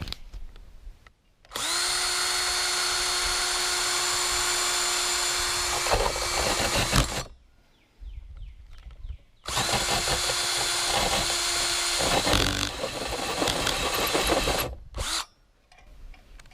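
A power drill whirs loudly in two sustained bursts of about five seconds each, winding up to a steady pitch and then revving unevenly before stopping, with short pauses between, while a spotlight is fitted on a tiny house from a ladder.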